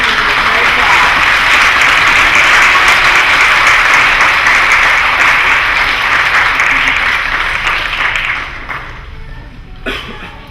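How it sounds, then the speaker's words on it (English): A crowd gives pageant contestants a loud round of applause. The dense, sustained clapping carries on for about eight seconds before thinning out and fading, with a few coughs mixed in. "let's give all the contestants another round of applause for the great job"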